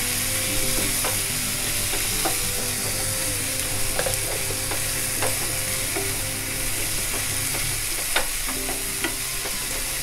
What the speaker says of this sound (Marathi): आता ही चांगला आपण तेलात जरा आलं लसूण पेस्ट आहे ना चांगली परतून घ्यायची